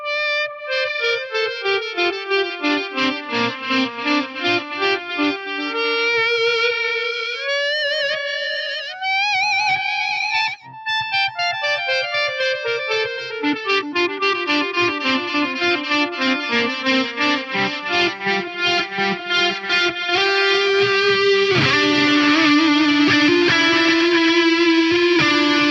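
An electric guitar on the neck pickup plays descending melodic runs through a Lexicon PCM70 filter delay preset, each note echoing and sweeping in tone, sustained and loud throughout.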